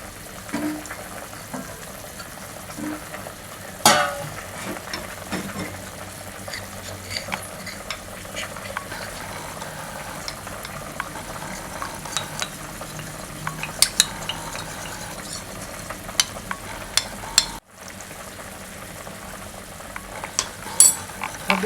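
Cornflour dissolved in a little water is stirred in a pot while aloo tarkari cooks, giving a steady soft scraping and sloshing with faint sizzling underneath, a sharper clink near the start and a brief pause toward the end.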